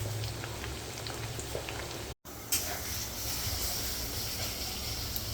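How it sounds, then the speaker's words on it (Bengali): Potato pieces fry in hot oil until reddish-brown for chicken biryani, making a steady, soft, continuous sizzling hiss with scattered pops and one very brief dropout partway through. "বিরিয়ানির আলু লাল লাল করে ভাজা হচ্ছে তেলে"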